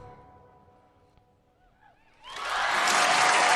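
An audience bursts into loud, dense applause after a sung performance on a televised masked singing contest, following a fading final note.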